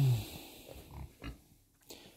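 Pigs on a small farm, sows that came into heat, give short low grunts and snorts, a few separate bursts close by with quiet pauses between.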